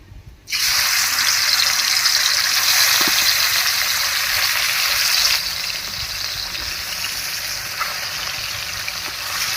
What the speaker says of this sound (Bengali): এবার কড়াইয়ে সর্ষের তেল দিয়ে মাছগুলো ভেজে নেবো